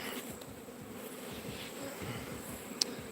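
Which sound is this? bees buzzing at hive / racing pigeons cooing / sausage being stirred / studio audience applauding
bees buzzing at hive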